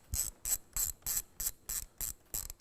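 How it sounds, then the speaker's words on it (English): A 10mm wrench loosens the nut on the negative battery cable of a driver's side battery on a 2017 Ford F-250 Powerstroke, giving eight quick ratcheting clicks in an even rhythm, close and crisp with no talking. "use a 10mm to take off the nut that's holding on our negative battery cable to our driver's side battery"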